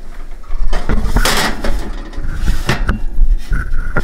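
Ceramic dish holding pumpkin spice caramel cheesecake slid into a preheated oven, with clattering knocks, scrapes and a rack or door bump, close and fairly loud, with no talking.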